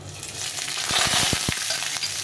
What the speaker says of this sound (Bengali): এখন আমি এর মধ্যে দিয়ে দেবো এই আদাটা থেতো করে রেখেছিলাম আদাটা